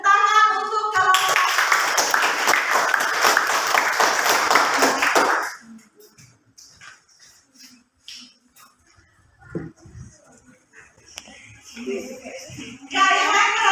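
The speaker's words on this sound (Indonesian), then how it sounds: "berarti kita kasih tepuk tangan untuk kelompok" A classroom of students claps for a group that has just presented. The applause is brisk and dense for about four seconds, then stops abruptly, leaving quiet room noise and scattered shuffling before a voice returns.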